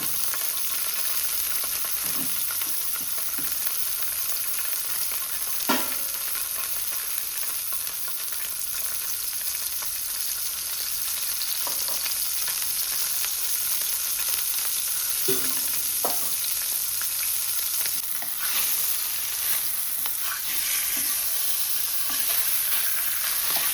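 Salted mackerel frying in oil in a pan, a constant loud sizzle with occasional sharp pops and scraping taps of a utensil, no voices.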